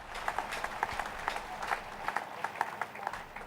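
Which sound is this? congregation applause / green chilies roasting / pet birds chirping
congregation applause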